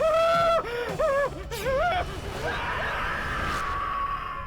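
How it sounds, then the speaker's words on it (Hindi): A person screams in horror in a Hindi horror TV episode: wavering, rising and falling cries for about two seconds, followed by a strained, fading wail over a noisy background. "ये चीख कैसी?"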